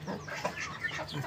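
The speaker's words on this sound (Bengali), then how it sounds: "একে একে 7টি মোরগ আমি আমার লফটে ছেড়ে দিলাম" Several small roosters released one by one into a rooftop loft give soft, close clucks and short chattering calls, repeated in quick irregular bursts over a quiet background.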